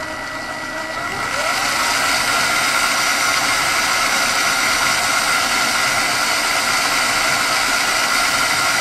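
A DC motor in an Arduino-controlled guitar pickup winder speeds up from a quieter start into a loud, steady whirring hum with a broad hiss that holds without a break.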